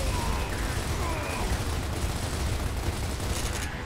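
Gunfire aimed at a vehicle in Gears of War, a dense, continuous rattle of automatic shots and impacts, loud and close, running unbroken for a few seconds.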